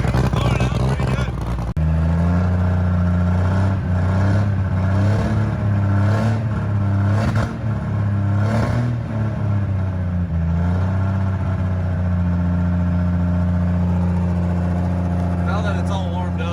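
A Cummins diesel truck engine idles loudly and steadily at close range during break-in, a deep constant rumble with slight shifts in pitch and occasional faint voices underneath.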